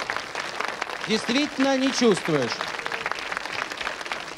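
Studio audience applause on a 1995 Russian TV game show, steady clapping that runs throughout while a person speaks briefly over it in the middle.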